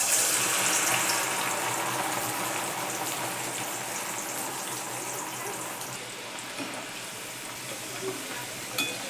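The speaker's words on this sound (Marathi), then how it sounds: "आता आपण ही थोडी थोडी डाळ तळायला घेऊ." Chana dal frying in very hot oil, a dense steady sizzle and crackle that stays loud throughout, with a few faint clinks near the end and no talking.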